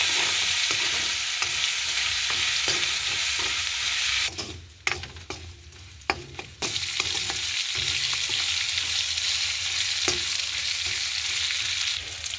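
Ginger-garlic paste sizzles and fries in hot oil for a prawn curry, stirred steadily with a spoon scraping the pan; the loud crackle runs throughout, dipping briefly in the middle as the spatula clatters.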